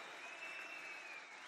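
Audience applause for a state chief minister at a public gathering, a dense, steady wash of clapping from a large crowd, continuous and even for the whole brief stretch.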